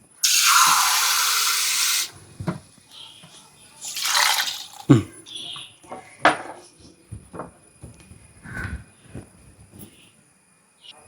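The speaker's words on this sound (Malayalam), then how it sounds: "കുറച്ചും കൂടെ വെള്ളം ചേർത്ത് കൊടുക്കാം നമുക്ക്." Water mixed with squeezed tamarind is poured into a cooking pot in a home kitchen, two short gushing pours followed by scattered clinks and taps of utensils, close and otherwise quiet.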